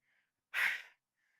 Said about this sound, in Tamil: மூச்சு வாங்குது.